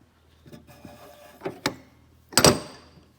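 The air tools drawer of a US General / Mastercraft five-drawer rolling tool cart slides open with a few soft metal rattles and clunks, ending in a sharper bang, close and fairly faint.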